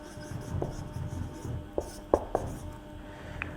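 Pen scratching on paper while a math proof is written out by hand, soft close strokes with a few sharper taps, faint and without talk.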